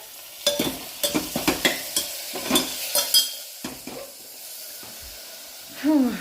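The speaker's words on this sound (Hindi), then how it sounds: "मसाले वसाले डाल दिए हैं सब, और अब डाल देते हैं टमाटर" Tomatoes go into a pan of spiced masala and are stirred, giving a series of close scraping, clattering strokes over a soft sizzle, then a quieter stretch and a brief louder scrape near the end.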